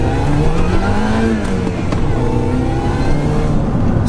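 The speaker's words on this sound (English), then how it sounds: "oh no, I've got a car behind me" Car approaching from behind on a road, heard from inside an old Cat D Mini Cooper S: a loud, steady engine drone with a shifting tone throughout, no talking.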